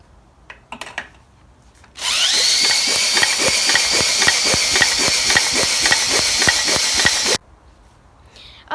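Ignition spark test on a Briggs & Stratton 6hp engine from a 1962 Bolens 600, with a washer and nut on the flywheel in place of the pull start. A loud, steady mechanical whir runs for about five seconds with evenly spaced ticking snaps, then stops abruptly.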